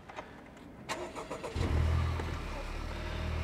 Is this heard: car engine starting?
yes